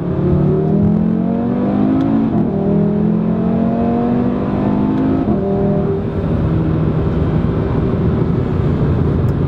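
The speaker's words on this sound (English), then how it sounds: "This car revs a little bit higher than the 6-cylinder from the Audi." An Audi RS3 sedan engine revs and climbs through the gears, loud and close, with rising pitch sweeps and brief drops at each shift.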